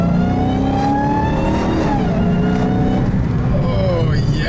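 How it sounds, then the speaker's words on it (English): A supercharged car with a Legmaker LMI intake accelerates with a rising supercharger whine over a loud engine drone, heard from inside the cabin while a person speaks. "I love that sound. That supercharger sound."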